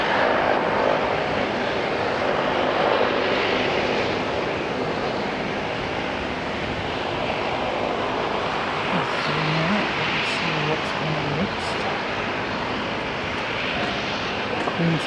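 An Air New Zealand jet, flight NZ616 in from Queenstown, at Auckland Airport produces a continuous engine roar and hum at moderate distance, steady throughout, with a few brief tonal blips and occasional voices underneath.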